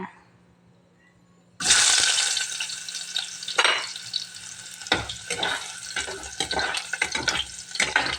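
Ginger sizzles loudly in hot cooking oil, a bright hiss that breaks in suddenly after a quiet start and keeps going, with repeated scrapes and clacks of a stirring utensil against the pan.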